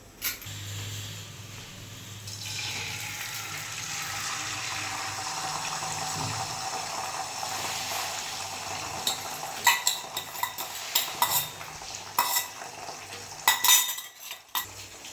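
Beaten eggs hit hot oil in a pan while egg noodles are being made, setting off a steady, close hissing sizzle that runs for several seconds, followed by clattering utensil knocks.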